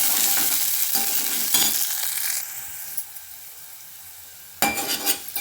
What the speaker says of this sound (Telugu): దాంట్లోకి ఉల్లిగడ్డలు, పచ్చిమిర్చి, కరివేపాకు వేసి